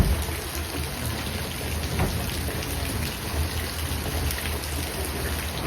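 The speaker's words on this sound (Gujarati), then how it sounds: "વરસાદ વધતો જાય છે હળવે હળવે" Steady unseasonal rain falls in a village near Botad, Gujarat, a dense even patter with no voices, continuous and moderately loud throughout.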